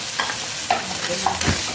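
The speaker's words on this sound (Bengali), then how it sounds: "এরপরে মশলাটাকে ভালো করে কষে নিচ্ছি কড়াইয়ের মধ্যে" Spice paste of ginger, garlic, onion and tomato frying in a wok, heard as a steady close sizzle with a few brief scraping stirs.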